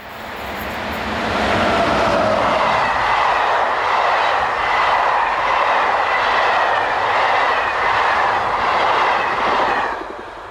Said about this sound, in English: 15016 rounds the curve north of the town of Bettenbourg with the 1050 from Paris to Luxembourg